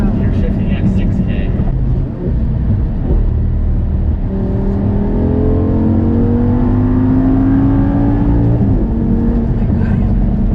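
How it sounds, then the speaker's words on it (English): An Audi R8 engine revs up through rising, whining tones, climbing in pitch over several seconds before dropping off, loud and close, with people talking over it. "you gotta rev her out"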